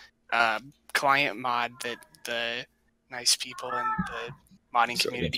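A pet cat meows loudly and excitedly in the background of a Dota 2 podcast recording, its calls rising over near, continuous male speech from several talkers.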